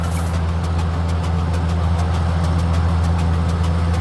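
A combine harvester's header left running in Farming Simulator 19 gives a steady, loud mechanical drone with strong low hum and constant engine rumble, unbroken throughout with no talking.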